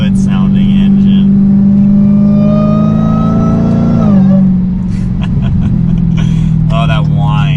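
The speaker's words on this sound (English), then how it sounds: "that whine. And downshift sound good too" A Dodge Challenger SRT Hellcat engine whines as it climbs, then the pitch drops sharply with a downshift, and the engine settles lower as voices talk over it.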